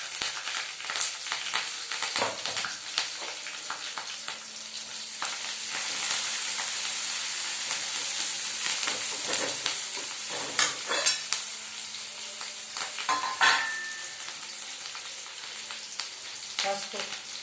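Curry leaves and coriander frying in a pan, a continuous sizzle with crackling bursts and intermittent scraping of stirring throughout.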